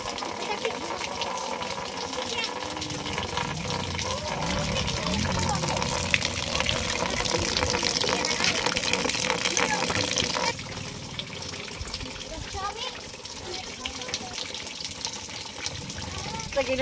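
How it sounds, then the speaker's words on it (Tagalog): Steady dense hiss of heavy rain pouring down on a roof, loud and continuous, easing slightly partway through. "umuulan."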